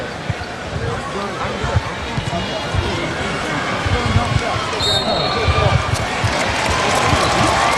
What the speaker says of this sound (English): Crowd responding as Robert Horry is helped back to the Laker bench.